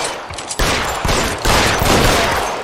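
Dense burst of gunfire in the crime game LA Noire, a rapid loud volley of overlapping shots with sustained rumbling echo and no talking.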